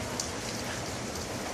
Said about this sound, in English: Go for a walk in the rain.